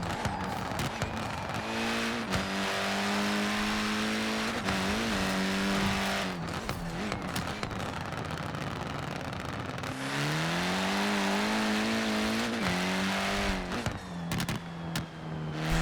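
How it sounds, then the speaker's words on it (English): A Ford Racing Puma with a turbo rally engine in Forza Horizon 4 revs hard through repeated rising gear pulls, with shift breaks and tyre noise, loud and close. "I like the turbo rally engine."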